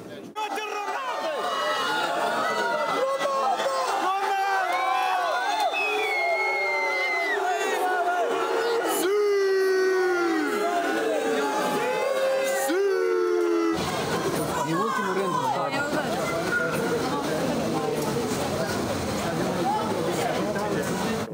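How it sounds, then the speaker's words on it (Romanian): Football fans greeting an English team at an airport, a dense, loud crowd cheering, whooping and chanting for several seconds, with overlapping shouts and babble continuing throughout. "Suporterii și-au întâmpinat cu urale favoriții, iar majoritatea au strigat numele vedetei echipei engleze, Ronaldo."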